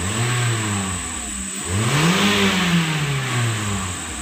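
Fuel-injected car engine with sluggish acceleration revs up and falls back in two rising-and-falling sweeps, close and steady, with no talk over it.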